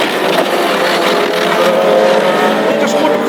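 Hot rod race car roaring past at speed in a classic hot rod heat at Tipperary, a loud steady engine drone filling the whole stretch.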